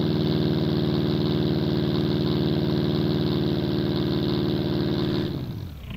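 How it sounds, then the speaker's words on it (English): Car engine with a racing exhaust idling steadily while warming up in the BeamNG.drive driving game, a loud, even, throbbing rumble held for several seconds before fading and dropping away at the end, with no talk. "That racing exhaust really sounds the part"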